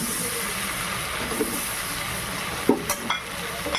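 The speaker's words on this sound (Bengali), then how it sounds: "এই তেলের মধ্যে চলে যাবে এবার পেঁয়াজগুলো।" Onions dropped into hot oil for an onion-prawn dish, a steady bright sizzle with a few soft clatters near the end, no voices over it.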